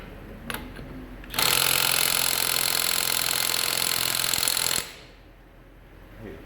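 A Matco 16V 3/8-inch electric impact gun, run in reverse on a car wheel, spins a lug nut off in one loud, close, sustained hammering whine lasting about three and a half seconds before cutting out.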